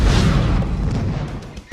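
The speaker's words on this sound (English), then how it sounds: "Explosions aren't a big deal." A movie explosion sound effect booms as a loud, low rumbling blast that decays over under two seconds, alone with no talk.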